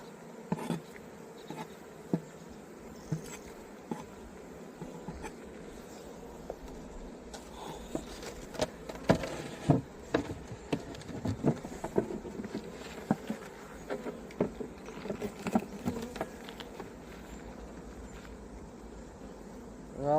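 Honeybees buzz around a very busy Abelo hive as a new super is added, a constant drone with individual bees zipping close past in sharp bursts, some light knocks and no talking.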